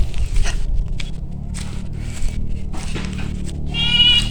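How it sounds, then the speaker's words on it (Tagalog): Goats kept in a backyard bleat from close by, a few separate wavering calls with a louder one at the end, along with rustling and shuffling footsteps. "Nagbabantay ng mga kambing."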